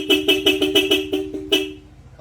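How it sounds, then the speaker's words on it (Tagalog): Yamaha Mio scooter horn beeping in a quick series of about seven short toots, then one more after a pause, loud and close. "Busina na naman ni sir."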